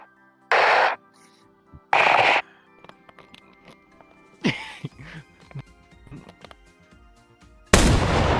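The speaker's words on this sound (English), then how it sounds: "we're gonna be putting this fish down humanely with the 50 Action Express pistol" A .50 Action Express pistol fires several loud, sharp shots separated by quiet gaps, with softer clatter and movement between reports.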